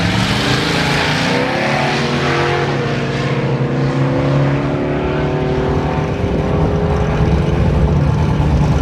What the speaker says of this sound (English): Going up against Radville's Curtis Scott with that teal 59 Chev.